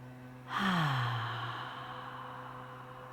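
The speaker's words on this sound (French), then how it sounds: "Expirez par la bouche." A single long, breathy exhale through the mouth during a yoga breathing exercise, starting abruptly and fading slowly, close to the microphone over a faint steady hum.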